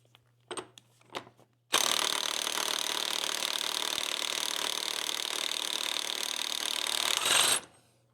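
An impact wrench hammers loose tight motorcycle rear sprocket nuts in a garage: a couple of short clicks, then one sustained loud rattling burst of about six seconds that stops abruptly.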